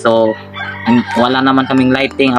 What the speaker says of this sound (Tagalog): pasensya na kayo sa ingay ng manok kasi marami kaming alagang manok